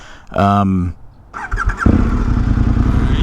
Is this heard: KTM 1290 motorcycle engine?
yes